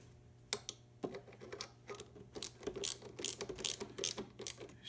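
Quick bursts of ratchet clicking as a socket wrench backs out 11 mm bolts holding the small rack on a Honda ATC 200M three-wheeler, close and moderately quiet, with pauses between runs and a steady low hum underneath.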